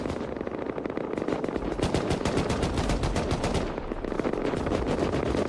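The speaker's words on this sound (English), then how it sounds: "So much firing going down." Dense, continuous automatic gunfire from a video game battle, rapid repeated bursts overlapping loudly throughout with a brief lull near the middle, no voices.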